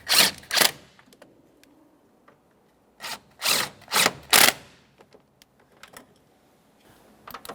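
A wrench snugging up the brake master cylinder nuts on a 2014-2019 Toyota Corolla, heard as several short, sharp ratcheting bursts separated by quiet pauses, close by, with no talking.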